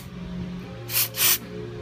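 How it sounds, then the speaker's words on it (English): Contact cleaner hisses from an aerosol can in two short sprays onto steering column parts of a Chevelle, over faint background hum. "If you can't clean it off, at least spray it with some contact cleaner."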